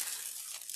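Tissue paper in assorted colours crinkles and rustles softly as it is handled, a brief, quiet, papery crackle with no talk.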